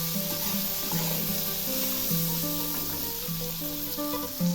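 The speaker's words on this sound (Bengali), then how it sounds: "এই বেগুনগুলো খুব ভালো করে ভেজে নেব।" Eggplant pieces fry in hot oil with a steady, even sizzle that holds for the whole stretch, while a melodic tonal line plays underneath.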